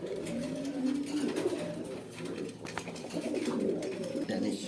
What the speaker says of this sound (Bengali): সেখানে দেখতে পাচ্ছেন এক পেয়ার গোল্লা কবুতর আছে